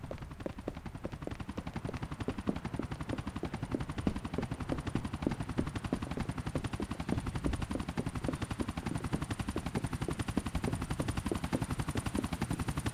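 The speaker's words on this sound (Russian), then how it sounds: "Так, я слышу вертолет." A helicopter's steady rotor thump runs throughout, mixed with rapid gunfire-like bursts, loud and continuous in the video game GTA 4.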